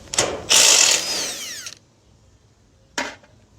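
A small impact wrench removing bolts from a stainless steel radiator fitting, a loud rattling burst that winds down over about a second, then silence before a second short hammering burst.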